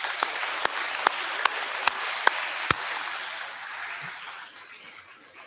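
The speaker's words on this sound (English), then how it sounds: "How about a round of applause for your teachers?" A crowd at a 7th grade school awards ceremony applauds for the teachers, a broad sustained wash of clapping with a few sharp louder claps standing out, gradually fading toward the end.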